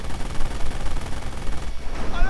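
Machine gun and rifle fire rattle in rapid, dense bursts during a World War II strategy game battle, loud and continuous with a voice commenting over it.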